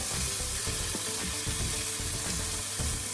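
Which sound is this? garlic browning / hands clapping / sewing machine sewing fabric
garlic browning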